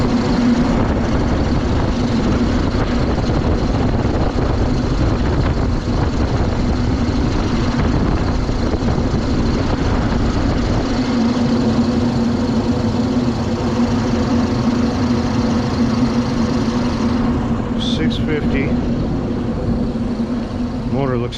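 An exhaust fan motor runs steadily with a continuous droning hum throughout, close and loud, with a brief faint rattle near the end.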